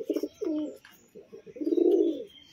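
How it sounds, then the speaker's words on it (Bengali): Biscuit-coloured and white racing pigeons coo softly and close by, in a few throaty, rolling calls with short gaps between them. "পায়রা দেখুন"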